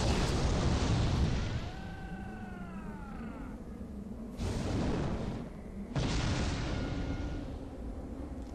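Enemy cannon fire in the video game Warhammer: Mark of Chaos: heavy booms at the start, around the middle and near the end, each followed by a rumbling decay.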